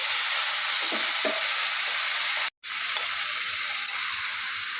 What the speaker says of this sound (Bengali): যে ম্যারিনেট করা মশলাটা ছিল সেই মশলাটা আমি ভালো করে তেলের মধ্যে কষিয়ে নেব